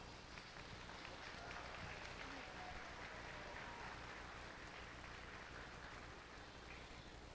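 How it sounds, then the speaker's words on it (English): Faint, steady applause from a crowd at a county dairy goat show, a continuous wash of distant clapping for intermediate showmen, low in level and even throughout. "let's give all these intermediate showmen a round of applause"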